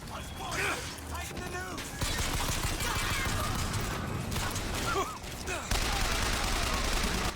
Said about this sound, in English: I don't ever remember using this pistol